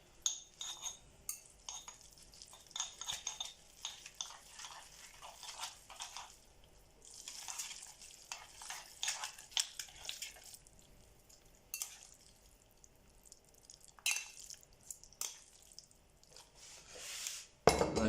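Noodles being stirred with sour cream in a dish, soft scraping and clinking of utensil against the dish in irregular bursts, quiet and close.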